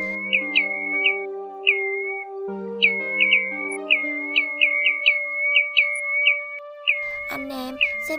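Repeated whistled calls of the Choi Choi Lông Cườm plover, a migratory bird, come as short rising chirps in loose clusters over a steady low drone, growing louder and harsher in the final second.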